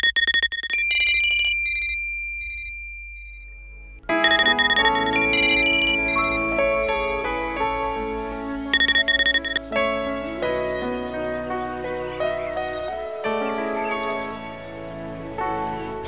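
A phone rings repeatedly without being answered, bright electronic chiming tones in bursts separated by brief gaps, with musical background underneath.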